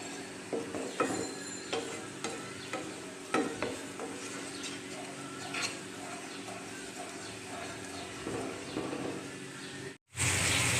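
Whisked homemade yogurt being stirred into a pan over low heat, with a steady soft scraping and light sizzle, repeated spoon strokes close by, ending in a sudden louder burst.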